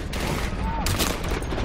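Rapid bursts of gunfire crackle through a firefight in the video game Call of Duty: Advanced Warfare, dense and continuous for under two seconds with a sharp surge near the end.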